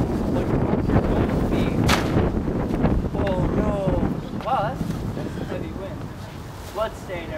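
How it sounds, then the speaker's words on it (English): Heavy wind buffets a microphone outdoors, a loud, continuous rushing roar that eases slightly toward the end, with people talking over it. "oh no, wow, that's a heavy wind"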